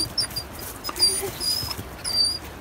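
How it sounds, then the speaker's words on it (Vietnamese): A dog greets people excitedly at a camp in the Tà Giang grassland highlands of Khánh Sơn, Khánh Hòa. Thin, high-pitched whimpering whines come through faintly over steady outdoor background noise. "Đây, con chó Bi"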